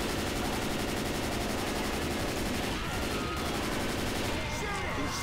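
Dense, continuous gunfire from many weapons pours on the Tank in Left 4 Dead 2 survival mode, a loud unbroken barrage of rapid shots with game noise and voices mixed in.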